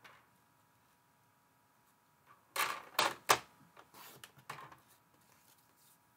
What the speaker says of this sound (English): And trim an eighth off of the outside edge.